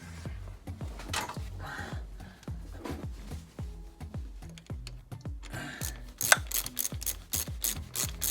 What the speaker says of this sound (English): tighten that one, which is an 8mm again